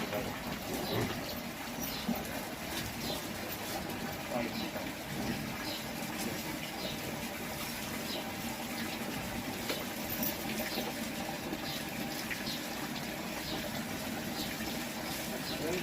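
Water running from a pipe during an intense heat wave in Sirsa, a steady gushing flow with a continuous engine or pump drone beneath it.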